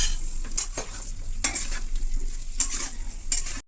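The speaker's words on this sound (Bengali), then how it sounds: "বন্ধুরা, আলুগুলো পুরো ভাজা হয়ে গেছে" Potatoes frying in hot oil for an egg potato curry, a steady close sizzle broken by a few louder bursts as the pieces are stirred, with no voices.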